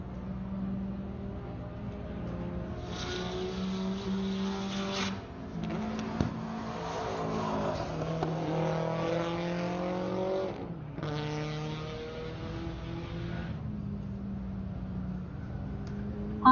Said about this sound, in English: so there's Dustin Williams starting his first hot lap with timing.